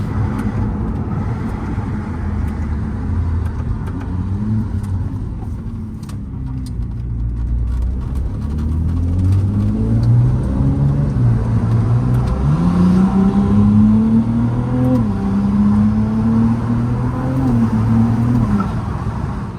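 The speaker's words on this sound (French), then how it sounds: "Très bien quand même à la sonorité que c'est un V6, premier V6 chez Ferrari, V6 hybride." A Ferrari 296 GTB with a hybrid V6 of 663 horsepower is driven and revved, its engine note rising and falling through gears, loud and close, with a climbing pitch near the end and no talking.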